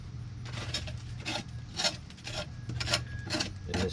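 Scraping caked wet grass buildup from the underside of an old Toro mower deck with a putty-knife-style scraper, a series of rough rasping strokes repeating close by, with no talk.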